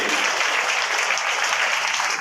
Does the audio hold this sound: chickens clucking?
no